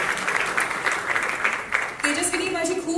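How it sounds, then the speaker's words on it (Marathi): Audience at a Marathi film trailer launch claps steadily throughout, a dense patter of hands heard beneath a voice speaking over it. "तेजस्विनी आणि वर्धासाठी सुद्धा जोरदार टाळ्या."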